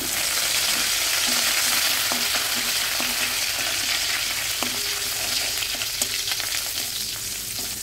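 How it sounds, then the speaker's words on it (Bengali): Curry leaves frying in hot oil left in a kadai after potatoes and pumpkin were fried out, a steady loud sizzle with crackling pops and occasional stirring scrapes throughout, no talk. "যে তেল রয়েছে এই তেলের মধ্যে দিয়ে দেব কারি পাতা।"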